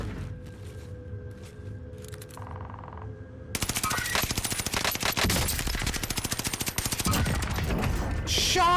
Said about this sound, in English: Shots! Shots, bro!